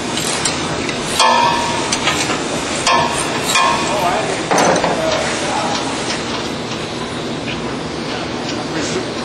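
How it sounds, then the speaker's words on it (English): Metal tool work on bolts holding the screen to a vertical plate of a CP-4 screw press, loud clanks and sharp knocks scattered irregularly over a busy, noisy industrial background. "Removing these two bolts which hold the screen to this vertical plate that we call the B plate."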